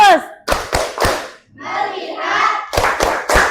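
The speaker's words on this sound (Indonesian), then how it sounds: "Tepuk fokus." A class claps out a focus rhythm pattern in unison. Sharp group claps come in quick sets, with the children's voices chanting in the pause between them.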